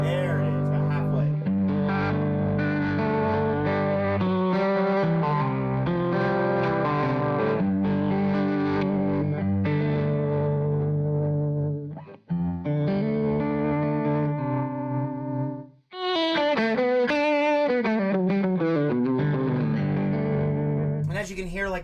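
An electric guitar runs through a Chroma Console pedal with its chorus effect set at about half mix, playing chords and picked phrases with a wavering, shimmering tone and short pauses between passages.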